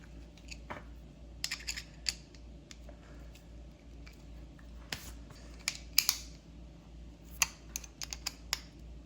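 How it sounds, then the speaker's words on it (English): A screw being hand-threaded into a 3D-printed plastic part for a lapidary saw fence, giving scattered faint clicks, creaks and scrapes over a quiet room hum, with no talking. "Just take a screw and thread it in."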